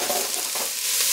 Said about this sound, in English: And now add leeks to medium high heat.